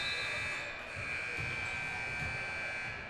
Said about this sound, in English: Can we do something about that buzzer?